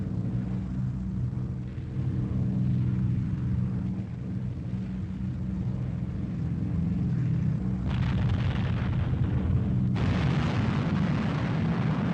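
Aerial bombs detonating on a target after release from a formation: a continuous heavy, rumbling roar of blasts with sharper bursts rising near the end, loud and dense, with no talk.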